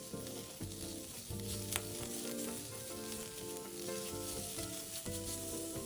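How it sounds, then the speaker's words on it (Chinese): Bitter melon pan-fries slowly over low heat, giving a continuous close sizzle with soft stirring scrapes over a steady tonal melody in the background. "煎中必须将苦瓜翻面，苦瓜才会均匀受热"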